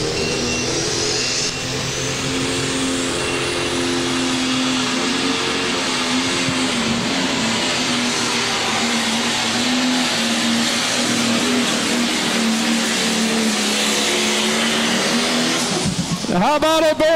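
Tractor pull pulling tractor Black Thunder, from Wilton, Wisconsin, at Baraboo, revs its engine to 6,000 RPM, a loud sustained roar with rising tones that swells near the end, with an announcer talking over it.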